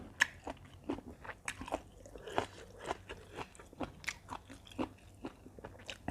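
Someone chews spicy cuttlefish tentacle salad up close, with quiet, irregular crunches and bites repeating for several seconds and no talking.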